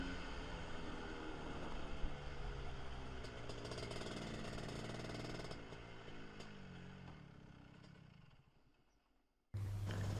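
A CRG go-kart engine runs with a steady, loud mechanical drone and rising tonal harmonics that fade toward the end, followed by a sudden brief burst of a different engine tone.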